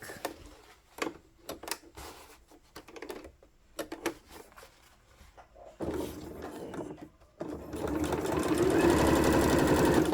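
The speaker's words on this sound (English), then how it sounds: "we're going to give it another good top stitching across the top" Sewing machine top stitching across the top of a garment pocket, first short bursts of clicking and handling, then a close, steady run of rapid stitching that grows louder toward the end.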